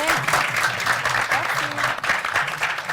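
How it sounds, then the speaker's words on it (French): Applause rises for actress Fatou Traoré at a Burkinabé cinema screening and debate, a dense, steady clapping from an audience that fills the room, with faint voices mixed in beneath it. "Je vous prie de l'applaudir, s'il vous plaît."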